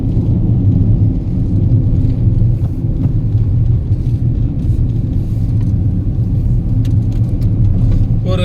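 Tata Tiago EV 24 kWh electric hatchback driving in sport mode, heard from inside the cabin as a steady low road rumble with faint whine and occasional thumps.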